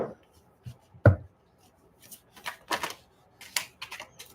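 Spiritual oracle cards being shuffled and handled during a reading, with crisp riffling flutters and a sharp tap, the bursts coming unevenly and close by, separated by quiet gaps.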